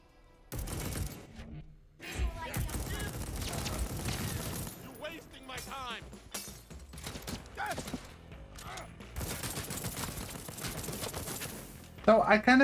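Gunfire and combat in the video game Deathloop, with dense bursts of shots, clanks and shattering effects layered over game music, loud and continuous, with a voice speaking over part of it.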